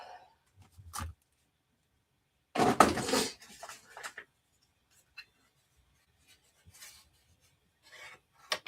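Paper scraps for stamping are trimmed with a cutter, giving a loud, rough slicing rasp of about a second, then a few faint taps and rustles amid silence.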